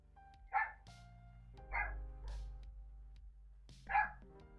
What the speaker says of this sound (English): Oh, there's Mango barking.